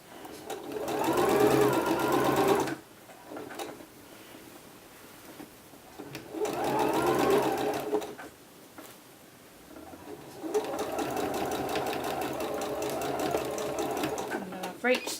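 A sewing machine stay stitching a reversible A-line dress, running in three loud close bursts of rapid whirring stitches separated by quiet pauses with small handling noises.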